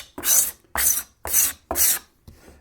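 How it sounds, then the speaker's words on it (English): A card scraper rasps across a wood surface in four steady, even strokes followed by a lighter fifth, each a crisp, close scrape with no voice. "well sharpened scraper used well, gives you a surface that you can go straight to finishing from"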